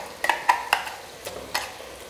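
Chicken is stirred with shallot paste in a frying pan, the spoon scraping and clinking against the pan in several short strokes over a soft sizzle.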